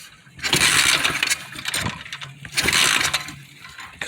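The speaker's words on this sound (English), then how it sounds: "See if I can get it cranked back up." A worn 125cc pit bike engine in need of a rebuild cranks and runs roughly, with two loud surging revving bursts separated by dips, close by and without talk.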